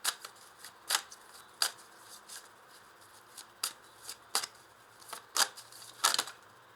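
Tarot cards being shuffled and drawn close by, a series of quiet crisp riffles and slaps at uneven intervals with no talk.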